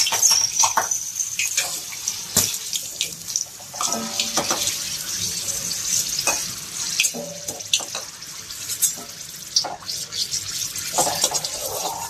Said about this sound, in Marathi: मिरच्या जे आहेत ना त्या तोंडी लावायला तळून घ्यायच्या, या देठासहित तळायच्या असतात